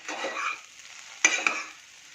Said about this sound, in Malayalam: കുറച്ചധികം മല്ലിയിലയും കൂടെ ചേർത്ത് നന്നായിട്ടൊന്ന് മിക്സ് ചെയ്യണം.